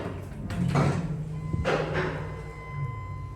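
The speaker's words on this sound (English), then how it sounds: "You hear the brakes." A ThyssenKrupp Synergy MRL traction elevator clunks as its brakes engage, giving a couple of close mechanical thuds and a sliding rumble followed by a faint steady tone.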